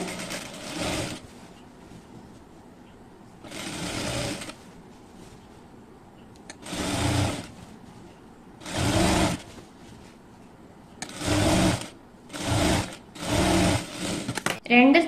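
A sewing machine stitches a side seam with a one-inch allowance in short repeated bursts, each run of motor whir starting and stopping, close by, with a voice talking in the gaps.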